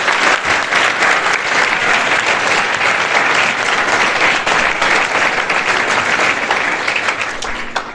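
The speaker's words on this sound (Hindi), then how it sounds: "एक बार फिर तालियां बजा दो भाई सर के लिए।" An audience gives a teacher a sustained round of applause, many hands clapping in an even, full wash of sound that stays strong for about eight seconds before easing slightly at the close.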